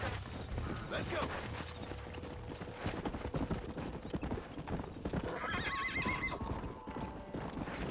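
Horse hooves clip-clop steadily in Red Dead Redemption, a stallion whinnies loudly partway through, and game music and voices sit beneath the hoofbeats.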